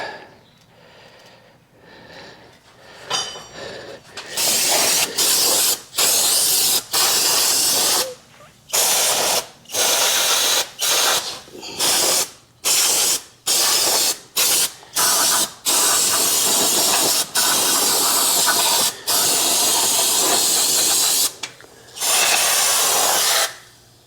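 Repeated short bursts of brake cleaner spray from an aerosol can on the front brakes of a 2021 Ram 2500, about a dozen sharp hissing blasts of varying length with brief silent gaps, close and loud.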